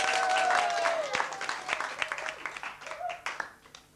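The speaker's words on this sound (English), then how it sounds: "Round of applause, please." An audience at a teen camp debate claps, a burst of applause that starts full and gradually thins into scattered claps before fading, with a voice briefly heard over it.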